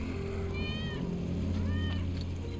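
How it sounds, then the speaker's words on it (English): A cat meows twice in the Final Fantasy 7 Remake video game, two short, rising-then-falling mews about a second apart over a steady low game ambience hum. "That's Wedge's cat."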